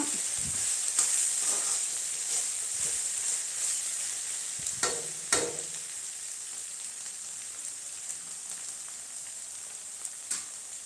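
Onions fry in a pan with a soft, steady sizzle, broken by several scraping, clinking stirs of a spoon against the pan; close and fairly quiet, with no talking.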